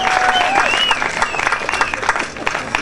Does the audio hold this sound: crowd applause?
yes